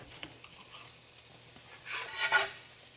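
Vegetables stir-frying in algae oil sizzle quietly in a hot pan, with a soft stirring swish that swells briefly toward the end.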